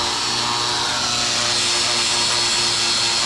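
A handheld power tool grinds and polishes bare metal on a Honda Civic EG floor pan ahead of welding, a loud continuous whirring abrasive drone with no pauses.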